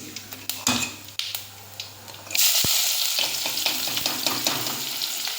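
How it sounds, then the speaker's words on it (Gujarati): Sliced onion hits hot oil in a pan after asafoetida, for a spiced eggplant curry. A few utensil clinks come first, then a loud sizzle starts and holds steady under light stirring and scraping. "હવે આમાં જશે ડુંગળી"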